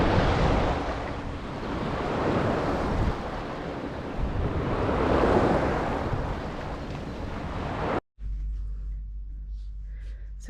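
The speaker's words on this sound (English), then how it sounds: "more windy than it normally is, so that's why the waves are so high" Heavy surf on a windy beach on Ios, Greece, with high waves rolling and crashing continuously in broad washes, wind buffeting the microphone, then a sudden drop to quieter rumble near the end.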